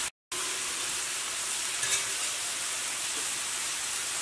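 Rice-flour noodles (noolappam) being tossed into sauce in a hot pan give off a steady, even sizzle with soft stirring scrapes throughout, cut by one brief silent gap near the start.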